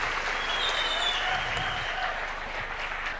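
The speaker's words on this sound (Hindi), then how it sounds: "मैं चाहूंगा एक बार आप अपने लिए जरूर तालियां बजाएं, अपने लिए।" An audience at a network marketing talk on direct selling rules claps steadily throughout, a dense, even patter of many hands at moderate loudness with no one speaking over it.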